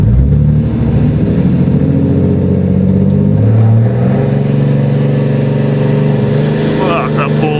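A 2021 Ram 2500 Cummins diesel pickup running a plus-150-horsepower tune accelerates hard on a boosted launch, its loud engine drone climbing through the gears, with a shift partway through and someone talking over it.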